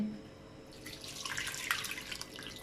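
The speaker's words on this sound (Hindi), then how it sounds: "पानी शामिल करेंगे" Water pours in a steady splashing stream into a pot of dal and chicken, starting after a brief pause and continuing close by.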